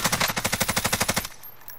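Video game machine-gun fire: a rapid, evenly spaced burst of about fifteen loud close shots that stops abruptly, followed by near quiet.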